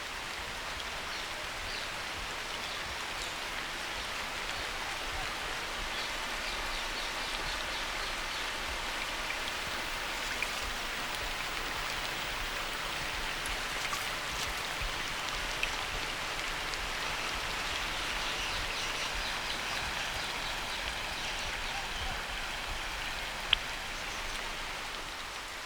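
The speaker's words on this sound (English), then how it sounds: "The downpours continue almost non-stop for a week." Heavy monsoon downpour in an arid region of India, a dense, unbroken roar of rain pouring steadily for the whole span, with only a few louder drops or splashes standing out.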